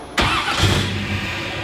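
A 1957 car's engine cranks and catches after a sharp click, then settles into a steady, low, rough idle close by with no talking.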